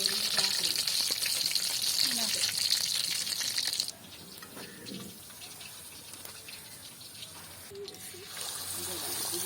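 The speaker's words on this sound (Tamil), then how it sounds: "இப்போ பார்த்தீங்கன்னு சொன்னால் மீன் பொரிஞ்சு கொண்டு இருக்கு." Fish fries in hot oil in a village kitchen with a loud, dense sizzle that suddenly drops to a quieter bubbling crackle partway through.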